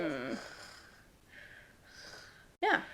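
A person imitates snoring with a nasal, wheezy breath pattern: drawn-out raspy inhalations and a snorting burst at the end, close to the microphone.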